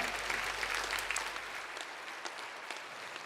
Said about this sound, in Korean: 건강하시라고 박수 한 번 더 보내주십시오